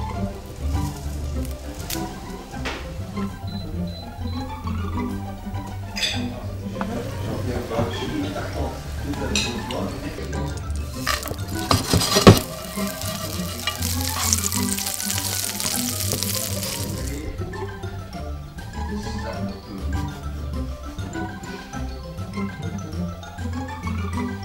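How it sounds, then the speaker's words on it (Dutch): Grasshoppers fry in a pan, giving a continuous crackling sizzle with occasional clinks and stirring sounds, and a brief louder burst of spattering midway through. "Maar voordat we ze erin doen, gaan we ze eerst nog even rap bakken en de vleugeltjes en de poten eraf halen."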